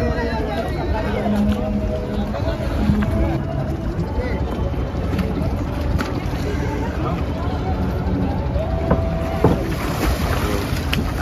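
A small wooden rowboat moving across the Ganges, with water sloshing and a steady wind rumble mixed with faint voices around.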